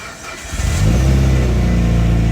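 A Mitsubishi Lancer Evolution IX engine cold start: it cranks briefly and catches, rising into a loud, rumbling idle that settles into a steady throb close by.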